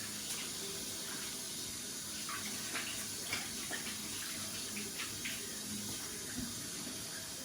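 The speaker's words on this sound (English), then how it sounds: "So before I touch it, I use a bit of salt to wash my hands" Running tap water splashes steadily at low level while hands are washed with salt under the faucet, with no talking.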